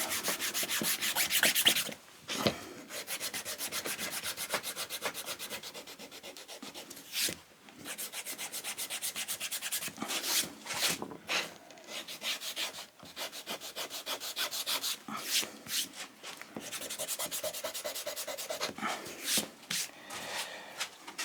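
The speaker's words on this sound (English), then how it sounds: "So now let's use the rust eraser." A rust eraser scrubs rust off a diamond sharpening plate in rapid, repeated back-and-forth strokes, a close, raspy abrasive rubbing that continues steadily with brief pauses between bursts.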